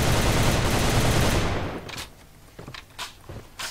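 Sustained automatic fire from an ARX-160 rifle in the online shooter A.V.A, a loud continuous burst for about a second and a half, then a few short separate shots trailing off.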